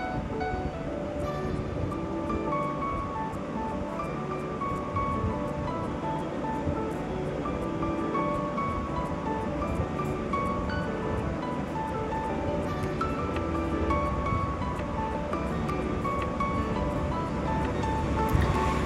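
Chopped tomatoes go into a hot pan for a spicy Andhra-style chapati curry, and a loud, even sizzling hiss carries on without a break from start to finish.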